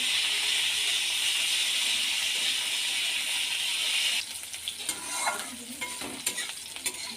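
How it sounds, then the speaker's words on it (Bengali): Sliced bitter gourd frying in oil with a little salt, a loud continuous sizzle that drops off partway through, followed by scattered stirring and clinking sounds. "এবার ওই তেলের মধ্যে কেটে রাখা উচ্ছেগুলো ভেজে নেব অল্প একটু নুন দিয়ে হালকা ভেজে নেব"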